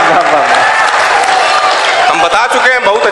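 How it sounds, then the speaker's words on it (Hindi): Audience applause at a poetry mushaira, a loud, dense burst of crowd clapping mixed with cheering voices and someone speaking over it. "ताली जोरदार बजा दीजिए एक बार"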